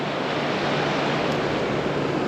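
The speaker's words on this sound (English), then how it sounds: "It's gonna be noisy because the ocean is right here." Ocean surf at Malibu Lagoon beach, a steady, loud, close wash of breaking waves filling the whole stretch without pause.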